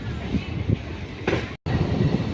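A train pulls out of Banaswadi station, a loud steady rumble of wheels and carriages with rhythmic clatter close by.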